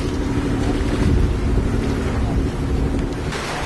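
A sailboat motor sailing under engine at sea: a steady engine drone mixed with rushing wind and water, continuous and fairly loud, with no voices.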